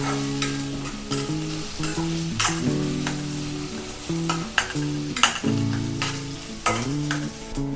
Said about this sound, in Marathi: आणि कढीपत्ता पण टाकते। आपण भाजून घेऊ लाल होईसारखं।